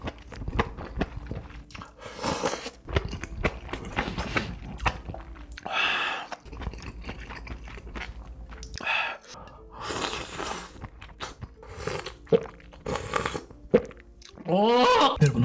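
Fried tofu puffs in a spicy malatang broth being bitten and chewed up close, with soft wet squishing and crunchy bites in bursts, broken by breaths and short vocal sounds.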